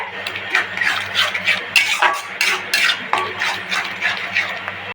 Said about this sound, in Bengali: এখন কচুটা কিন্তু ভালো মতো একদম তেলের সাথে ভাজা ভাজা করে নিতে হবে